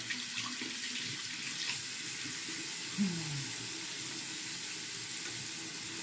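Tap water runs steadily into a sink to wet a facial cleansing brush, a continuous close hiss and splash lasting the whole stretch, with faint handling sounds.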